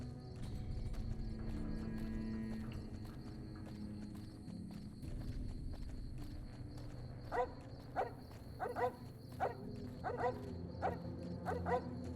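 Dogmeat, the dog companion in Fallout New Vegas, barks in a string of sharp, close yaps over the game's steady ambient music and footsteps, the barks bunching together in the second half.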